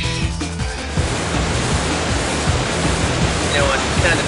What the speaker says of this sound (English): glass broke and water's flooding the place